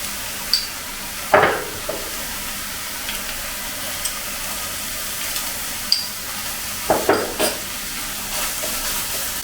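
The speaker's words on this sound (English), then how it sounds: "the pork is actually stir fried with the oil and starts to become aromatic" Minced pork sizzles in hot oil in a wok with garlic and ginger for Sichuan glass noodles, a constant close hiss broken by a few louder scraping stirs of the spatula.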